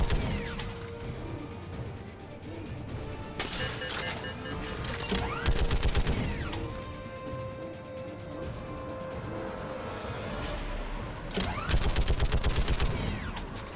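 Dense, continuous gunfire from weapons in the video game Mass Effect 3, with rapid bursts and heavy impacts layered over steady mechanical noise and louder volleys near the start and end.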